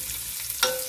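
Food sizzles steadily in hot lard in a pan while being stirred for túrós csusza, with a sharp, louder burst of frying partway through and no talking.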